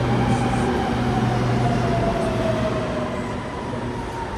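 A Shanghai metro airport line train arriving at the airport station, its steady loud rumble and rolling wheel noise filling the platform and easing slightly toward the end.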